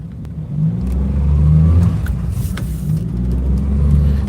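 An all-wheel drive car's engine revs on a salted winter road, a loud steady low rumble that swells and holds, close to the listener.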